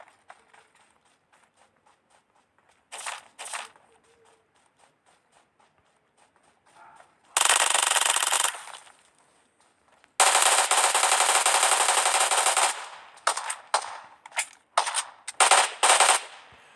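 PUBG Mobile gunfire: quiet ticking steps, then short bursts and two long, loud rapid-fire volleys of automatic weapons, followed by a string of choppy shorter bursts.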